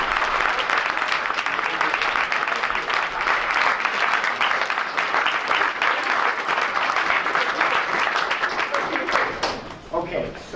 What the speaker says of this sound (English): we want all the students in the board to give you a round of applause